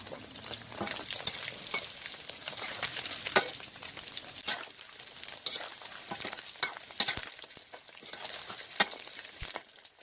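Steady crackling sizzle of chicken feet deep-frying in hot oil, with occasional sharp pops and utensil clinks, fairly close and continuous.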